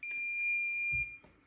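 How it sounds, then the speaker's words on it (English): A digital torque wrench gives a single sustained high beep, steady for about a second and then cutting off, with faint handling noises around it in a quiet workshop. "that's my digital torque wrench going beep"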